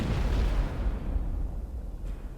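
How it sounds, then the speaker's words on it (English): A deep, rumbling explosion boom in the video game 428: Shibuya Scramble, a loud low roar that swells at the start and slowly fades over a couple of seconds. "Suddenly a boom as loud as a cannon fire shook the area."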